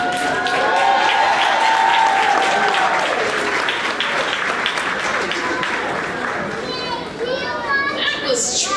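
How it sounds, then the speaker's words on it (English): Audience applause and cheering at an elementary school kindergarten graduation ceremony, loud and sustained clapping mixed with children's excited voices throughout, easing slightly toward the end. "Let's give that another round of applause."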